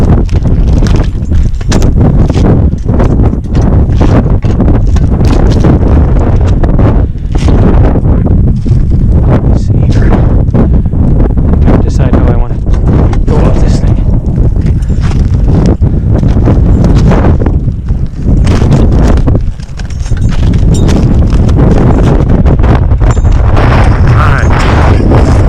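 Strong, icy wind on a house roof buffets the microphone with loud, continuous low rumbling and gusty roaring during a Starlink installation.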